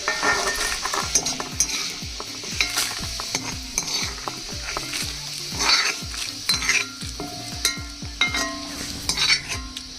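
Dried red chillies fry in hot oil in a kalai pan, hissing and sizzling steadily while a metal ladle stirs and scrapes against the pan in repeated clinks.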